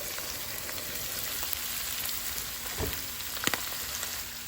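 Chicken liver fries in a pan with a continuous quiet crackling sizzle, fairly faint and even, broken by a few small clicks and a soft knock near the end.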